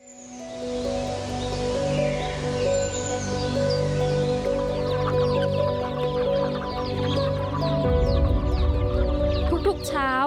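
A flock of chickens clucks steadily on a mixed pig and poultry farm in Nan province, Thailand, with continuous overlapping clucks and chirps over a dense outdoor background that grows louder toward the end.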